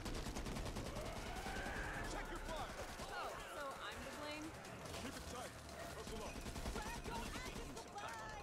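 Steady gunfire rattles through a chaotic Back 4 Blood video game fight, the shots packed densely under game noise and talking voices.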